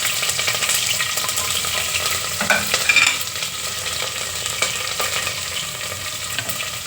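Onions and green chillies fry in hot oil for a tempering, giving a steady dense sizzle with occasional stirring scrapes, close and continuous, with no talk.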